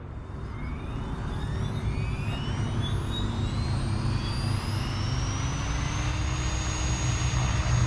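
An RC helicopter's rotor spools up, its whine climbing steadily in pitch over a loud, constant motor drone, close by and with no voices.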